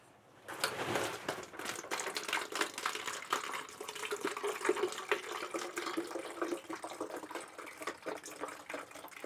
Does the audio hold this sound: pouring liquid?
yes